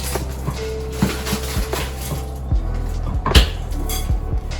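Chocolate chip cookie dough is being mixed in a bowl, giving repeated scraping and knocking of a utensil against the bowl, irregular thuds and clinks with one sharper clatter, all close up.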